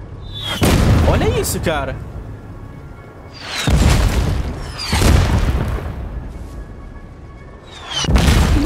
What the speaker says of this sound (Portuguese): Nossa, vai começar a cair bomba aqui.